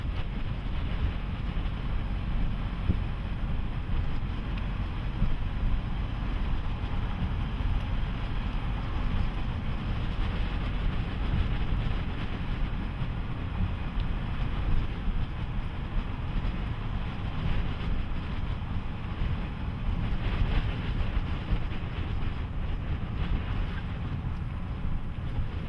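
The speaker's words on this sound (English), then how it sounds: "It's kind of windy up here." Strong wind blusters at a canyon overlook near a hydro dam in British Columbia, a constant loud roar buffeting the microphone throughout with no talk.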